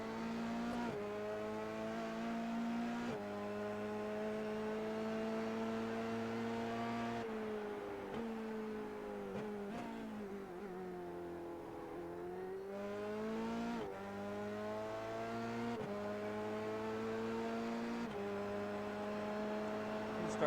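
Race car engine during an SCCA race, a continuous harmonic whine that rises and falls through gear changes, steady and somewhat distant.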